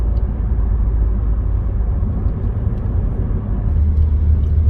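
Steady low engine rumble and road noise from inside a moving car on a cold sunny day in Turkey, constant and fairly loud throughout with no talk.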